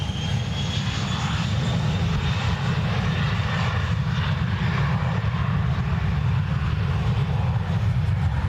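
Airliner jet engines rumbling on the runway at Dublin Airport, a loud continuous roar with a low, steady drone and a faint high whine.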